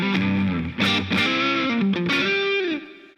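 Electric guitar played through a Pride of Texas overdrive pedal with a bluesy tone: a short, loud, close run of sustained overdriven notes and slides in a minor pentatonic solo, alone with no talk.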